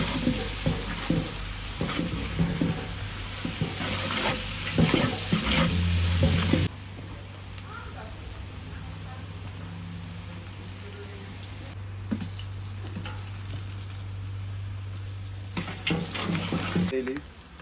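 Ghee and oil sizzle in a pot for mutton biryani, a steady soft frying hiss with occasional stirring clatter and a brief louder burst near the start.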